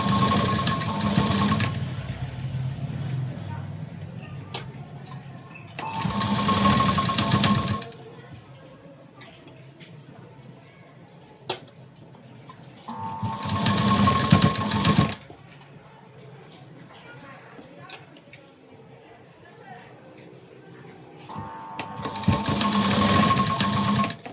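A sewing machine stitches fabric piping in close bursts of steady mechanical whirring, several runs separated by quieter pauses, with no talking.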